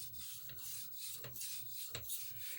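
An Opinel knife is stroked across a vintage Belgian Coticule stone, giving soft, close rasping rubs in a steady back-and-forth rhythm, quiet and alone.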